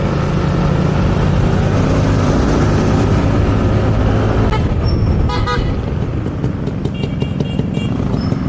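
Horn on a Yamaha NMAX 155 scooter honking several short times in a row, over loud, steady road and engine noise while riding.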